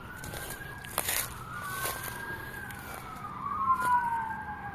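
Emergency vehicle sirens wail past the edge of a cemetery, sweeping up and down in long rising and falling tones that swell slightly louder as they go by, with faint road noise underneath.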